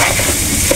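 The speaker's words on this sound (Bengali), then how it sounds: "তাহলে চালটা কতক্ষণ ভেজে নিব।" Raw rice for a biryani being fried in oil in a pan, giving a steady, close sizzling hiss that stays even and unbroken for the whole short moment.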